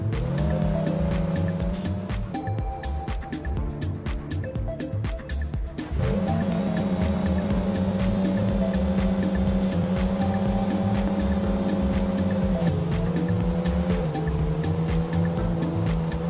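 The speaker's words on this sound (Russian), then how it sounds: "сзади приора у нас едет просто максимально плавно" A Lada Priora driven in the mobile game Car Parking Multiplayer, its engine droning steadily with shifting pitch and occasional tire squeal, loud and continuous throughout with no talking.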